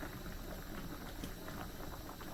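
Pak choi blanching in a pot of boiling hot water on the stove, a steady close bubbling and hissing roil that holds evenly throughout, with no voices.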